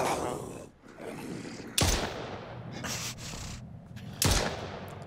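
Gunfire in the survival video game Mist Survival: a few sharp, isolated gunshots, each with a short echoing tail, spaced a second or two apart over a faint ambient background.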